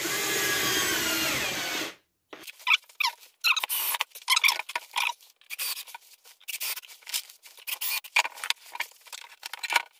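A power drill whirs loudly for about two seconds while screwing wooden battens, then silence gives way to a scatter of close, sharp clicks and scraping handling noises.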